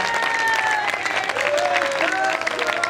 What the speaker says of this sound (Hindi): पंक्ति से कमजोर तालियां हैं